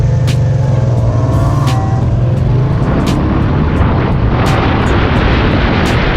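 A 1985 Honda Shadow 500 VT500C motorcycle with dirty carburetors runs loud and close, a dense rumbling engine roar under steady wind buffeting while riding.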